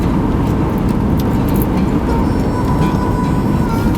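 Old Volvo with a white door cruising on an Oregon canyon road: a loud, steady rumble of engine and road noise from inside the cabin, with no talking.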